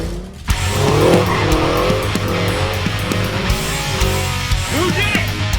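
A Toyota Supra skids with loud, sustained tire squeal and engine roar close by, the squeal wavering in pitch over several seconds, with people talking and shouting over it.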